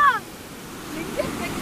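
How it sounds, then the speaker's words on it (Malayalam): Rough sea surf breaking with heavy force on a shoreline where children play, a steady wash of rushing water after a brief voice at the start. "ആ ഫുൾ പ്രഷറില് കടലുള്ളത്."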